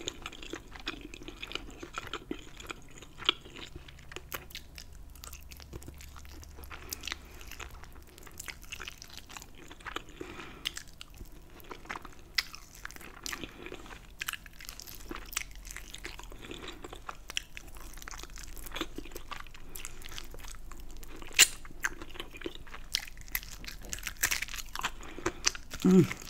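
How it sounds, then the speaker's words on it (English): Crunchy chewing of fried buffalo chicken lollipops at close range, steady crackling bites and mastication running throughout, with a few louder crunches near the end. "I got some of that crunch."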